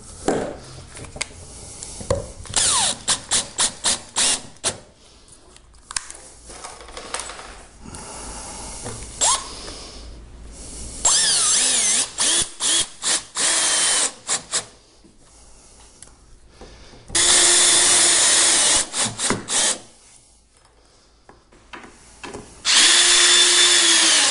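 A power drill runs screws into pre-drilled holes, with repeated whirring bursts of varying length separated by pauses, the later runs longer and louder, close up with no talk.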